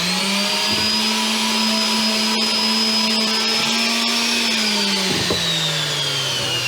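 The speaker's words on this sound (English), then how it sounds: "I'm going to start sanding this area where it's going to meet the hull," A power sander works an old painted boat hull where the superstructure meets it, giving a loud, steady motor whine that runs the whole time. Its pitch dips briefly and then drops off toward the end. No one speaks.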